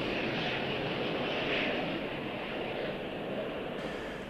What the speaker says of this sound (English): Pilot starts the jet engines again and flies back to the same airfield, and it lands like an ordinary aeroplane.